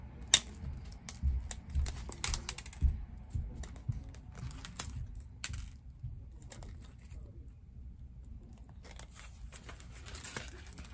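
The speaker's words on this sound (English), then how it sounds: "you take your nippers and you cut the teeth until you get to that second mark you made" Nippers cutting metal zipper teeth during a jacket alteration, a series of sharp, irregular clicks and snips close by, some louder than others, over a soft background.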